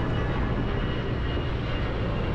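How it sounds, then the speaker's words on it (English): A steady, broad roar of a jet airplane passing overhead near an ocean toll road in Bali, loud and continuous, with a rumbling low end and no voices. "yeah that is the airplane"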